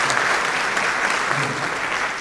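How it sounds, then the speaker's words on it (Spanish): Audience applause at a panel forum on family aggressors, a steady dense wash of many hands clapping at once, loud and continuous throughout with no pauses. "Recibimos con fuertes aplausos a Milena Rivero"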